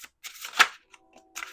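A deck of cards being shuffled, a few short riffling bursts with brief pauses between them, close and fairly quiet.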